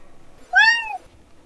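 A cat gives a single clear, close meow with a rising then falling pitch, lasting about half a second in an otherwise quiet room.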